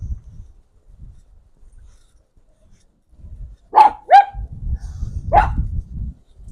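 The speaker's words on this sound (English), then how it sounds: "My little miniature dachshund." A miniature dachshund gives three sharp, close barks in quick succession against a low background rumble and faint movement sounds.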